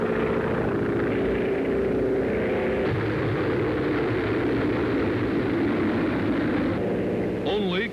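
Bomber engines drone in flight during a 1942 daylight raid over Nazi-occupied France, a loud, continuous roar with a shifting pitch, partly mixed with a narrator's voice and a brief whine near the end.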